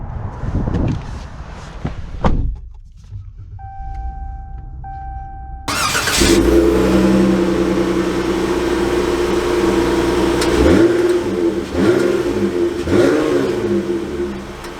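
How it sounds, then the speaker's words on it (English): A 2022 Ram 1500 pickup with a V6 engine starts after a door thud and warning chimes, then idles and revs as it pulls away, engine rising and falling in pitch, loud and close from inside the cab. "let's take it out and see how it drives"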